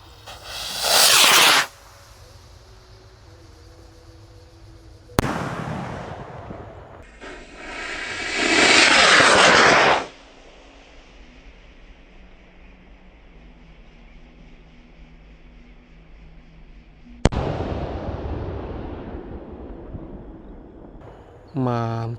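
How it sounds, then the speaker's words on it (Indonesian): A Rocket Mars Roman Candle firework is lit outdoors, giving several bursts of loud hissing whooshes with sharp cracks between them and quieter stretches where a voice speaks. "Rocket Mars Roman Candle siap kita luncurkan ya."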